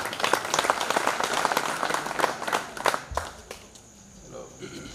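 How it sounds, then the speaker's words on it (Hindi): Audience applause at a village poetry recital (kavi sammelan), a burst of brisk clapping that fades after about three seconds, leaving faint background sounds. "बजा देते एक बार जोरदार तालियां"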